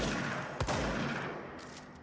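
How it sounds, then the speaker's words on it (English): A single gunshot in the video game Control, a loud sharp blast with a brief ringing tail that fades over the following second and a half, heard alone. "What happens if I shoot this?"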